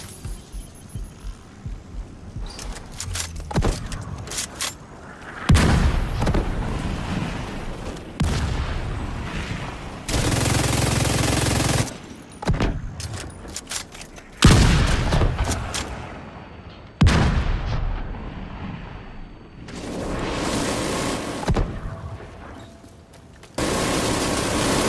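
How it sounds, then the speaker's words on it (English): Mortar fire in The Division 2 during a climactic mission: heavy booming blasts and rumbling bursts repeat across the scene, loud and close, with gunfire-like crackles and sustained roaring noise between them. "Get that second mortar firing, Corporal!"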